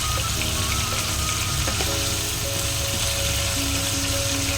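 Prawns fry in hot oil for prawn pulao, a steady dense crackle and sizzle throughout, close and continuous, with faint tonal kitchen hum underneath and no talking.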